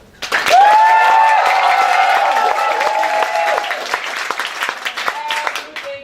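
An improv comedy audience bursts into loud applause with whoops and sustained cheering, a voice calling out over it, the clapping gradually tapering off near the end.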